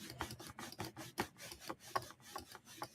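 Repeated rasping scrubs from a Stampin' Scrub pad, rubbed in short irregular strokes about three to four times a second, fairly faint and close, with no talking.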